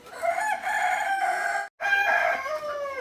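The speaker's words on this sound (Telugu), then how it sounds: "ఇంకొక కోడి ఇక్కడ గుడ్ల పైన కూర్చోయింది" Rooster crowing in long sustained calls with hens clucking nearby on a farm where a hen sits on eggs, loud and close, with a brief silent gap midway.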